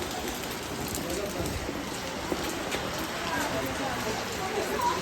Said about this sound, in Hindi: बाहर बारिश लग गई है। आपको मौसम दिखाते हैं हम। वो देखो सामने का व्यू, बारिश लग पड़ी है बहुत जोर की।